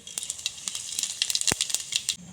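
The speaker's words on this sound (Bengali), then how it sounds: "সর্ষেটা একটু ভাজা ভাজা হয়ে গেলে এর মধ্যে আমরা গোটা জিরে আর মৌরিটা দিয়ে দেব" Mustard, cumin and fennel seeds fry in hot oil, giving a bright steady sizzle peppered with rapid crackles and pops, one sharper snap standing out, close and moderately loud with no voices.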